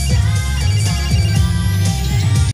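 A phone rings during a girl's song performance in the movie Camp Rock, a steady electronic ringtone tone repeating loudly over the music for the whole stretch.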